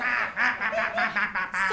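Duck quacking in a rapid series of about six nasal, raspy calls close by, each short and evenly spaced, with no talking.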